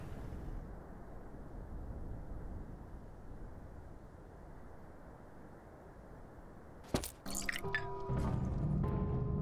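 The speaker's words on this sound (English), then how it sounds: "It's like the last water supply in town. I'm about to drain it." Water drains steadily from the last town water supply in the video game Pathologic 2, a continuous rushing wash that gives way to a few sharp clicks and clatters near the end.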